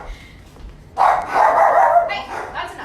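A dog barks at an Amazon delivery arriving at the house, a loud run of barking after a quieter moment.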